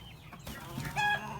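A rooster in a farm pen gives a short, close cluck among low background noise, ending in a brief tonal call.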